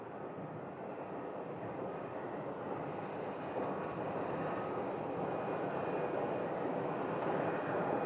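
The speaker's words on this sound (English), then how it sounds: "So this is the Chicago flight is pulling out right now." Airliner on the Chicago flight pulling out at Sky Harbor airport, a faint, distant, steady jet rumble and whine that swells slightly over time, with no talking.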